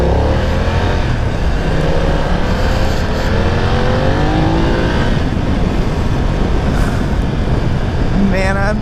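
Engine of a BMW F900R motorcycle pulling hard under throttle on a test ride, a loud continuous roar with rising harmonic sweeps, buffeted by heavy wind noise throughout.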